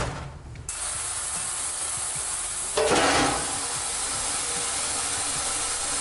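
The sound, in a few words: ultrasonic cleaner running with parts inside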